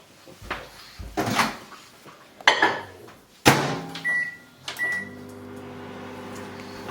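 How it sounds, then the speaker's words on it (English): A microwave oven heats a cinnamon and stevia mug cake. A few door and cupboard knocks come first, then a steady low hum settles in, with a couple of short beeps in the middle. "And then in the microwave"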